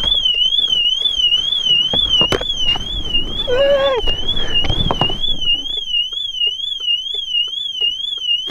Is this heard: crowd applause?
no